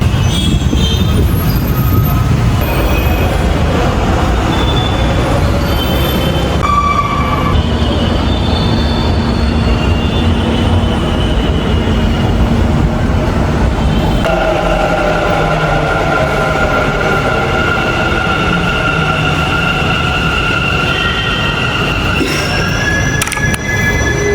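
A metro train runs between Madavara and Yeshwanthpur, with a steady rumble of wheels on rail, a rising and falling electric motor whine, and brief squeals, loud and close throughout without voices.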